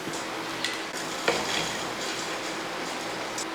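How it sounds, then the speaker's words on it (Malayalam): Fried soya chunks drop into hot sauce in a pan, setting off a loud, steady, close sizzle with a brief clatter as they hit. "ഈ സോസൊക്കെ ഇളക്കി ഒന്ന് ചൂടായതിന് ശേഷം ഈ വറുത്ത് വെച്ചിരിക്കുന്ന സോയ ചങ്ക്സ് ഇതിൻ്റെ അകത്തോട്ട് ഇട്ടു."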